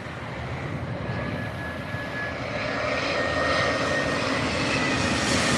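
Jet airliner (Delta Airlines) approaching LAX, a steady broadband engine roar that gradually grows louder as it nears, with no talk.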